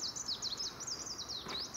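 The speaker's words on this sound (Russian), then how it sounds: "Птички поют" Small birds sing outdoors near a viburnum bush, repeated rapid chirping trills that are clear and fairly close over a quiet background.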